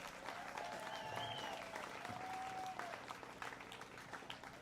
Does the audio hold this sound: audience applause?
yes